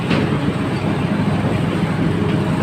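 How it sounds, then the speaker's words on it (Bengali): An express train pulls out of a station bound for Dhaka, a loud, close, continuous low rumble of rolling wagons and engine. "মতি এক্সপ্রেস কিন্তু ছেড়ে গেল ঢাকার উদ্দেশ্যে"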